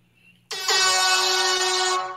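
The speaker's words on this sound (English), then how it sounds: "Everybody gets air horns." An air horn lets out one loud, sustained blast lasting about a second and a half, close and piercing, going off at a gathering of Black college golf coaches.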